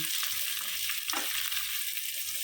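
Mussels and ginger fry in a pan, giving a soft, steady hiss and sizzle with a brief stir scrape, quiet and alone.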